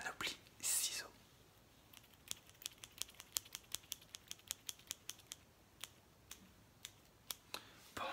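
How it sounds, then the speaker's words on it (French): Scissors handled for ASMR, a quiet, close series of crisp snipping clicks in a brisk, uneven rhythm after a soft whisper, in an otherwise hushed setting. "une petite dernière panoplie ciseaux"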